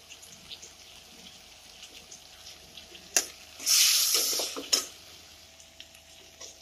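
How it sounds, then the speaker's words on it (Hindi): Spice masala frying in a pan for stuffed small village eggplant kalonji, a faint steady sizzle with brief louder bursts of stirring and scraping near the middle, no voices. "तो अब हम मसाले को डाल देते हैं और इसे अच्छे से पकाते हैं।"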